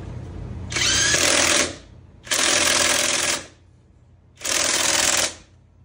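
A pneumatic impact wrench spins on a car lug nut in three loud, close bursts of about a second each, a harsh buzzing rattle separated by short quiet gaps.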